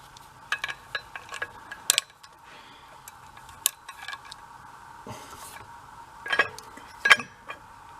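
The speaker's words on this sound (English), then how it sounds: "Let me go one size socket larger." A socket wrench clicks and clinks on a diesel Bobcat Toolcat side-by-side, giving irregular metallic ticks and a few sharper clanks of sockets and tools, close and fairly quiet.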